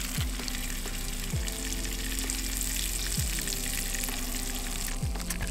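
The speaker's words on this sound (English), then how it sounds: "Should have brought a bigger frying pan, but as the meat cooks, it will actually shrink" Goose breast meat sizzles steadily in a hot frying pan, a dense crackling hiss with a few soft scraping sounds now and then.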